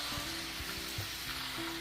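Green peas fry in hot oil in a pan with a constant, even sizzle and a few soft stirring knocks, heard close and alone for a brief moment.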